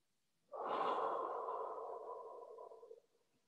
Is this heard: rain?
no